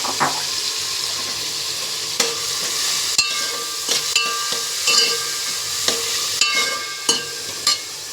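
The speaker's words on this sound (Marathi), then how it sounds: "चांगलं लालसर होईपर्यंत आपल्याला हे कांदे भाजायचे" Onions frying in a pan for Mumbai-style pav bhaji, a continuous close sizzle broken by repeated scraping and clacking strokes of a spoon stirring, with no talking.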